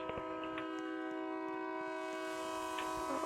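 A train in the RO-Scale Sandbox game sounds a long, loud, sustained horn chord for several seconds, heard alone with faint rail noise beneath.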